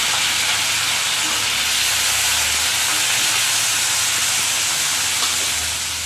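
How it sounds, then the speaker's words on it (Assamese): Paneer fries in a hot kadai with a loud, steady, hissing sizzle that stays even throughout, close up with no voices. "এইটো কেৰাহী গৰম হৈ গ'ল, পনীৰখিনি ভাজি ল'ম।"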